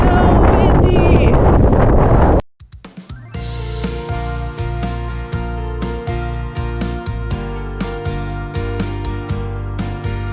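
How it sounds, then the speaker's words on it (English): Strong wind buffets the microphone on the rugged Maui coast near the Nakalele blowhole, a loud roaring blast that cuts out suddenly, then gives way to a choppier stretch of gusty rumble and thumps. "It's so windy!"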